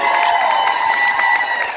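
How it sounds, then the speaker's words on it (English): A panel audience breaks into brief applause and cheering, a dense, steady clatter of clapping hands. "you guys can clap for her"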